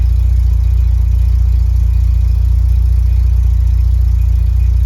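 A Mk2 Golf GTI engine runs at a steady idle, a constant low rumble with an even hum, close to the microphone and alone with no talk.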